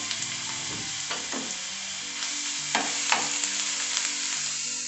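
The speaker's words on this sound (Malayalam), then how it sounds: "ഇഞ്ചിയുടെയും വെളുത്തുള്ളിയുടെയൊക്കെ ഒരു പച്ചമണം ഒന്ന് മാറുന്നത് വരെ ജസ്റ്റ് ഒന്ന് ഇളക്കി കൊടുക്കാം" Crushed ginger, garlic and green chili fry in hot oil for a Kerala-style stuffed pressure-cooker chicken, a steady sizzle broken by several sharp scraping stirs of a spoon against the pan, close and fairly loud with no voices.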